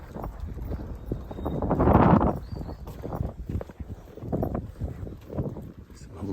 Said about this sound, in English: Some horses just behind us, just deciding whether to follow.